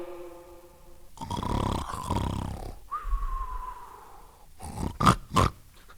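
An actor voices Scrooge's loud, prodigious snore from A Christmas Carol, a vocal imitation with rasping inhaled snorts and grunting exhales, close and forceful, ending in sharp snorts.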